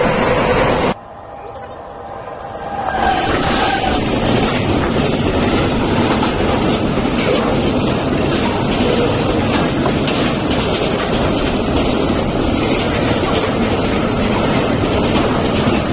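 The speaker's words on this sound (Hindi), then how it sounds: "यहाँ से ट्रेन निकल गुजरता है दिल्ली जाने की, दिल्ली रूट है ये" A train passing near Akshardham station on the Delhi route, a loud sustained rumble and rattle of rail cars rolling by close after a brief quieter start, with voices talking over it.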